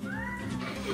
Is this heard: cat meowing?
yes